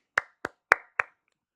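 Four sharp hand claps, close and crisp, spaced about a quarter second apart, each with a short ringing tail, then silence.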